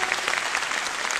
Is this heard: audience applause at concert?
yes